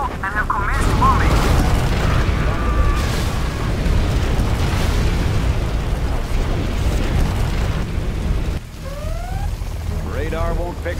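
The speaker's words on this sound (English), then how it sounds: "We are over the target area now and have commenced bombing." A bombing run in the strategy game C&C Generals Zero Hour brings a dense stretch of rumbling, overlapping explosions and blasts, loud and continuous, with in-game unit voices speaking over the barrage.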